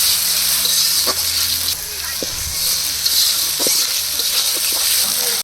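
Dal poured into a pot of sizzling cumin and onion masala at an outdoor village picnic, a steady frying hiss with scraping stirs and clanks, voices talking faintly underneath.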